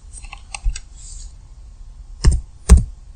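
Keystrokes on a computer keyboard, a handful of sharp clicks typing a web address into a browser, close and with no speech.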